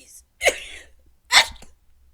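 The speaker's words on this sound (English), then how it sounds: "I gotta sneeze." A single close, sharp sneeze bursts out, followed by a second explosive burst a moment later, with near silence between.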